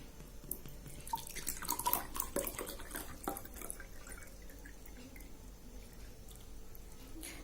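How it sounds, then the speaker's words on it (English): Water poured from a bottle into a glass, giving a trickling, dripping splash that swells briefly and then settles into a soft, steady running sound, fairly close with no talking. "Now I am going to pour water from this bottle into this glass."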